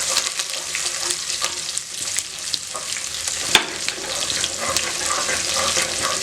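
Garlic and curry leaves frying in hot oil for a fish curry, a steady close crackle and sizzle running throughout with a brief sharper pop midway.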